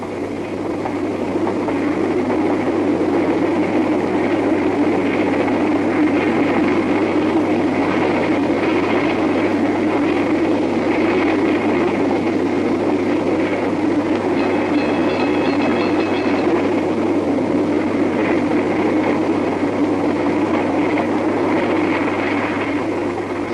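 A steam locomotive with oil fuel feed and boiler injector accelerating through Otahuhu after crawling over the points, heard as a steady, loud, continuous rumble of wheels and engine with faint clickety-clack and no talk.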